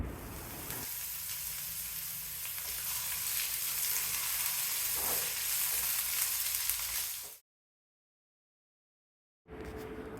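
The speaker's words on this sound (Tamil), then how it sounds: "அடுப்பை மீடியம் ஃப்ளேம்லேயே வச்சுட்டு சௌச்சவ் நல்லா வேகிற வரைக்கும் வதக்கணும்" Steady, loud sizzling of chopped chow chow being sautéed in a pan for chutney over medium flame, continuous frying hiss for about seven seconds, then a cut to silence and a brief return of sizzle.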